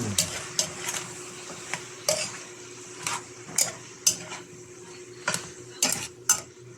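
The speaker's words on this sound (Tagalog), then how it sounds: "Haluin lang natin." Spatula scraping and clinking against a pan while sautéed bottle gourd (upo) is stirred for ginisang upo with chicken liver and gizzard, a series of sharp, uneven metallic strokes close by over a low steady hum.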